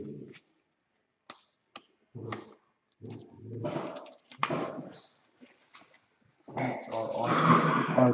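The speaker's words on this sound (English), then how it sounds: "here's some dogs growling" Dogs growl in short low bursts between pauses, building to a louder, sustained stretch of growling near the end, close and fairly clear.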